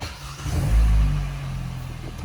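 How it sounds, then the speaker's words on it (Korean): A Hyundai LF Sonata engine cranks and catches, a brief low surge that swells and then settles into a quieter, steady idle hum. "자, 한번 시동 한번 걸어 보겠습니다"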